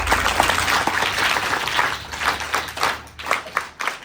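Children at a PM Shri Jawahar Navodaya Vidyalaya school community event in Tapi, Gujarat, break into sustained group applause, a dense patter of many small hands that swells and fades unevenly.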